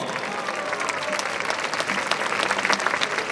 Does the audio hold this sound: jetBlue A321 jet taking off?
no